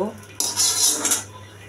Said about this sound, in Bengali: চুলাতে বসিয়ে দিলাম কড়াইটা